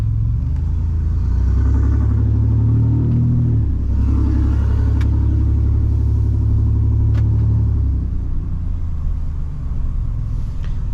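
Steady low engine rumble and exhaust drone from a deleted and tuned 2019 Ford F-150 with a 3.0 Powerstroke diesel while driving, loud and continuous, with a dip in pitch midway as it shifts.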